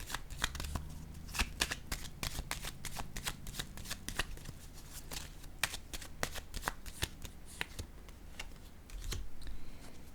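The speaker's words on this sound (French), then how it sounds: "Je vais déposer quelques cartes sur l'harmonie à l'envers." Tarot cards being shuffled and laid out, a dense run of crisp riffling snaps and soft slaps close by, with faint speech in the background.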